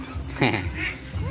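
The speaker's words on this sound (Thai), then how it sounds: "เป็ดเทศ" A single short, raspy Muscovy duck call bursts out once amid outdoor background chatter at a farm park, fairly close and moderately loud.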